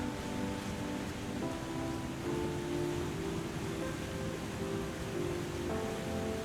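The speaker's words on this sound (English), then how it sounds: "A waterfall like this shouldn't be making that much noise from around the corner." Waterfall in The Long Dark video game, a loud steady rushing wash of falling water, constant throughout with faint tonal music underneath and no talking.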